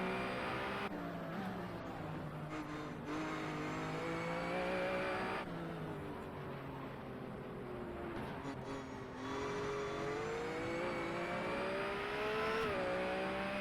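Steady, loud engine drone of a BMW Z4 GT race car in the Race Pro racing game, GT Club series, with rising and falling revs through gear changes and corners, continuous with no talk.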